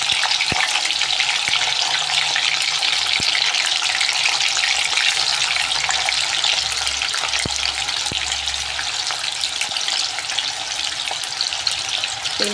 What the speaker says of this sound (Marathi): पनीर तळून झाल्यानंतर याच्यामध्येच आपण हा कांदा पण तळून घेणार आहे।